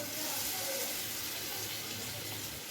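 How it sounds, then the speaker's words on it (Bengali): Water from washed hands is sprinkled around a hot pan of soybean kosha, giving a steady, fairly loud hiss and spatter that runs without a break. "একটু হাত ধোয়া জল আমি চারপাশে ছড়িয়ে দিলাম"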